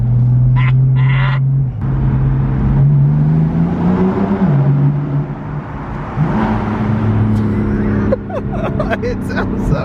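A BMW M4 F83 engine accelerating from inside the car, a loud, close growl rising and falling in pitch through gear changes. Occasional voices are heard over the engine.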